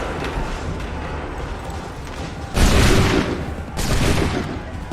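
A volley of musket fire from soldiers in Assassin's Creed 3, two loud broad blasts a little over a second apart over a low steady battlefield rumble.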